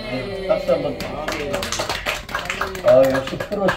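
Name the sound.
audience applause in church service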